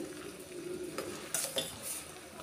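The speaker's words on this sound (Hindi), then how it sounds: "देखिए इस तरह से उबाली आएगी" Fruit boiling in sugar syrup in a pan over a high flame, a soft steady bubbling broken by a few brief utensil clinks and stirring scrapes, close and fairly quiet with no voices.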